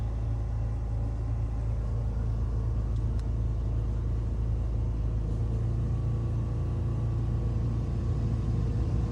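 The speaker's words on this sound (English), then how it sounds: "The engine will kick up here in a second. Give it some more RPM so it can handle the" A portable generator engine runs under load aboard a boat, powering a battery charger, air conditioner and outlets, giving a loud, steady low rumble with a constant drone and no speech.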